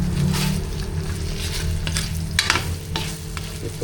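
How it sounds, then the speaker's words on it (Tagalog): Food frying and sizzling in its own rendered oil in a pan while being stirred for a breakfast dish, a steady close crackle with occasional louder spatters, no talking. "Iprito pa natin siya sa sarili niyang mantika guys."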